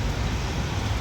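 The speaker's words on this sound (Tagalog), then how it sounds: "Sobrang lakas ng ulan." Heavy rain pours down on a rainy morning, producing a loud, dense, unbroken roar of broadband noise close by throughout, with no other distinct sounds standing out.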